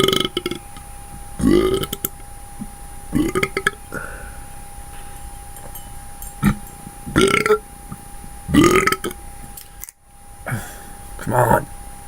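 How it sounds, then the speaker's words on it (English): A string of loud, drawn-out belches, about half a dozen spaced a second or two apart, each a deep gurgling burst close to the mic, with quieter breathy sounds between them. "Burps. Arise. Arise in my esophagus."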